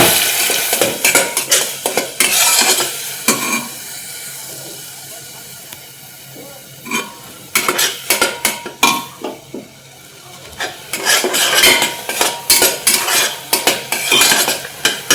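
Ground masala paste fries in hot oil with mustard seeds and cumin for a spicy matki rassa bhaji. A loud, steady sizzle runs throughout, broken by close scraping stirs of a spoon against the pan, with no talk.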